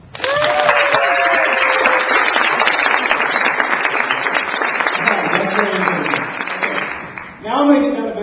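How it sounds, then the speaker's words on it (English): An audience at a weight-loss group meeting claps in sustained, dense applause for about seven seconds, with voices mixed in, before it fades. "give a round of applause."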